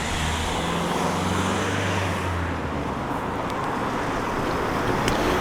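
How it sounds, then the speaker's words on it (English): Steady road traffic on a busy high street, a continuous loud wash of passing cars with a low engine drone early on, no talking. "It's absolutely busy with cars around here."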